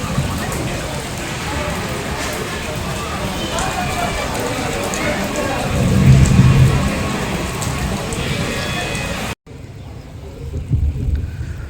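Heavy rain falls at the Baba Dhabaleswar temple, a loud continuous hiss and patter that swells briefly midway, with a voice speaking over it and a short cut near the end.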